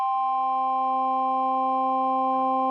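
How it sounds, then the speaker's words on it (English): Several steady, pure sine tones sound together without a break, sustained electronic pitches of the kind used to demonstrate combination tones, loud and close with no talking. "So now we've got 4 tones that our ear is telling us exist."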